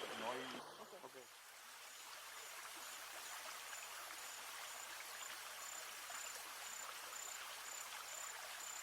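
A forest river, a tributary in the Cucurital basin of Canaima, flows steadily with a broadband rushing wash that stays even and close throughout, after a brief burst of voices at the start.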